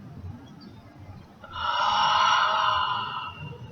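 A deep inhalation during a guided breathing exercise, drawn from low in the belly: one long, steady, breathy rush of air lasting about two seconds, close and fairly loud over a quiet background.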